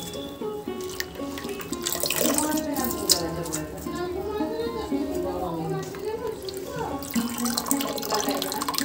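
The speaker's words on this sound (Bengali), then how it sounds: "চলো শাকটা ধোবো।" Leafy greens washed under a running kitchen tap, a steady close stream of water with splashing and dripping, while voices and household sounds carry on over it.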